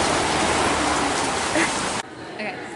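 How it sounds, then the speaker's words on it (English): Heavy pouring rain, a dense loud hiss close by for two seconds that drops off abruptly to a muffled quieter wash, with a voice faintly present. "it is just absolutely pouring rain so hard right now"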